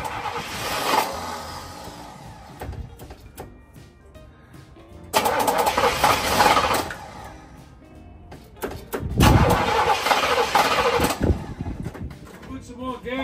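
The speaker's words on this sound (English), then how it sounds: "It's trying, it wants to start." A 1967 Cadillac Coupe DeVille engine cranks over in three loud bursts, each time nearly catching and sputtering before dying back, with people talking between attempts.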